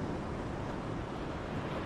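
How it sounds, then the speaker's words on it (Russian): Medium surf washing onto an ocean shore in Kamchatka on a sunny day, a steady broadband roar with no distinct breaks, close and fairly loud, with no voices. "Была средняя волна."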